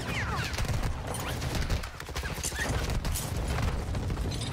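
Rapid video-game gunfire, a dense fusillade of shots with mechanical clatter that continues almost without pause, loud and close, easing briefly for a moment near the middle.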